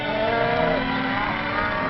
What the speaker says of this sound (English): The cattle are first rounded up.